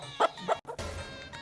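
A hen clucks in a village, two short, fairly close clucks spaced about a third of a second apart, followed by a brief gap and soft rustling background noise.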